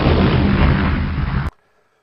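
Big Bang explosion sound effect: a loud, sustained broadband roar lasting about one and a half seconds that cuts off abruptly into near silence.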